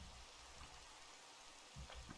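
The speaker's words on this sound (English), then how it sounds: "it's definitely raining." Steady rain falling in the Minecraft video game near a river in a savannah biome, a soft continuous hiss of drops that stays even and fairly quiet throughout, with no talking.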